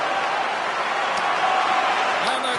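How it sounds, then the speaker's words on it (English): Hockey arena crowd at the end of a game, a steady dense roar of cheering and applause filling the space, even and sustained throughout without breaks. "the crowd's on their feet, saluting the team after a hard-fought effort this evening"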